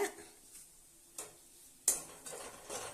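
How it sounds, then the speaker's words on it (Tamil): Semolina (rava) roasting in hot ghee in a pan for Chettinad ukkarai sweet, with a faint steady sizzle broken by a few sharp scrapes and stirring clinks spaced about a second apart. "நெய் சூடாயிடுச்சு இதில் வந்து போட்டு நல்லா வறுக்கணும்"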